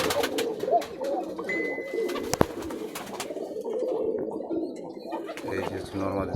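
Pigeons at a Rajshahi loft of high-flying Giribaz birds coo in low, rolling bursts, with a rhythmic coo toward the end, mixed with nearby chatter and speech.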